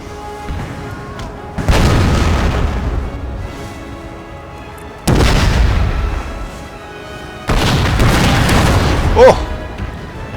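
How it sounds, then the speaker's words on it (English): Artillery cannons fire in Napoleon: Total War, three heavy booming blasts spaced a few seconds apart, each with a rumbling tail, over a continuous background din of battle. "Artillery!"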